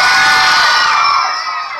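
A crowd at a live evening show cheers and shouts loudly, a bright wash of excited voices and whoops that holds steady and then eases off slightly by the close.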